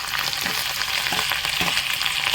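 Cumin, sesame seeds and chili crackling in hot tempering oil for dhokla, a steady close sizzle with scattered pops and spluttering throughout, no voices.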